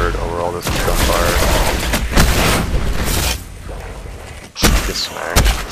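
Dense gunfire in the shooter game Destiny: rapid volleys of shots, heavy thumps and booms crowd the mix, with sharp loud blasts near the middle and end, while a player talks over the combat.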